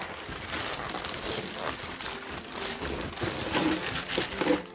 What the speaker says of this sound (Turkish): Kutu açılımı sayılmaz ama biz de poşet açılımı yapmış oluyoruz.